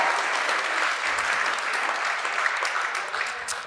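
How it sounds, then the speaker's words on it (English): Audience applause at a live Rhode Island Foundation event as panelists are introduced, a steady, full round of clapping with a few crisper claps near the end as it starts to fade. "we'll let you do an applause."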